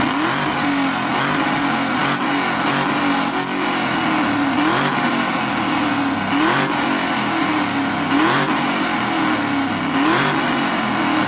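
A loud, raspy truck engine with its muffler cut off revs repeatedly, rising and falling in rhythmic surges, with a harsh open-exhaust rumble close by.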